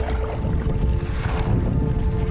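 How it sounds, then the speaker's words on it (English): A boat punches upwind through choppy tide waves on the ocean, a loud, steady wash of hull slap and spray with heavy wind buffeting the microphone throughout. "Heading out to the ocean again. Punching up wind through some tide waves."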